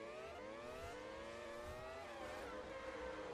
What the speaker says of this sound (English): as you hear the car revving up in the background